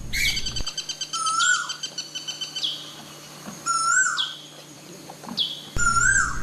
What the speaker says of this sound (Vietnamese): Tiếng tu hú đã gắn với kỷ niệm tuổi thơ của nhiều người sống ở miền quê.